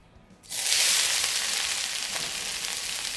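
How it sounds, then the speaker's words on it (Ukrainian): Loud, steady sizzling of carrot, onion, tomato and fennel frying in hot oil, bursting in suddenly and holding a bright crackling hiss throughout. "Відправляємо все смажитись на розігрітій олії."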